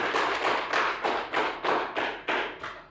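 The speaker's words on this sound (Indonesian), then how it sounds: "Tepuk tangan dulu" A classroom group clapping in unison, about eight evenly spaced rhythmic bursts of hands, close and clear with no talk over them.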